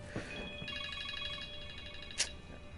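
A telephone rings in the background during a Borderlands 3 session, its repeating electronic trill running steadily under the game audio with a brief sharp accent near the end.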